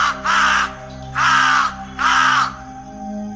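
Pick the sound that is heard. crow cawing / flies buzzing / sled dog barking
crow cawing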